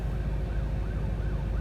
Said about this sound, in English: Lights and sirens are going.